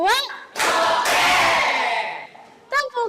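A group performs a counted clapping routine: two sharp, loud claps in quick succession, blending into a sustained burst of shouting voices, with a brief voice at the start and end.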